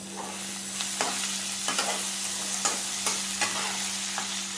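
Tomatoes sizzling in a pan with salt for chilli chicken, a steady loud frying hiss punctuated by periodic scrapes and knocks of stirring and mashing, no talking.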